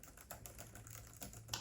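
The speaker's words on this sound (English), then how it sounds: "I'm gonna go ahead and see what the keyboard feels like" Typing on an Apple Magic Keyboard for a 13-inch M4 iPad Pro, a string of quiet, close key clicks at an uneven rhythm with no talking.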